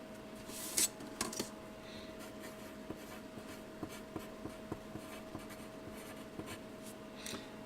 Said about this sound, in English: So right here, I'm going to actually write the word